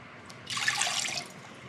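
About a cup of water is poured into a pan for pastry dough, a brief splashing pour lasting under a second against a quiet room.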